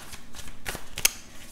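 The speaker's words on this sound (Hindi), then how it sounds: "कुछ कार्ड्स हम आपकी पर्सनल लाइफ के बारे में भी निकालते हैं" Tarot cards being shuffled and drawn for a zodiac reading, a few soft quick riffles and flicks close by, ending in a sharp little snap of a card.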